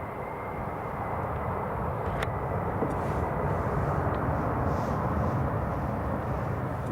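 An EasyJet airliner arrives at Newcastle International Airport, its engines a broad, steady roar that holds loud and constant throughout.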